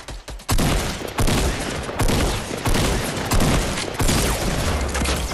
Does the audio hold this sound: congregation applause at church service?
no